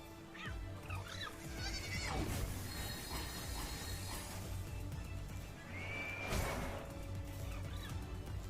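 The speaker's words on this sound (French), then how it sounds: "Mouton, attaque!" A sheep-like creature in the monster-catching game Palworld bleats repeatedly mid-battle, loud wavering cries over busy game music and combat effects, with a sharp rising call near the end.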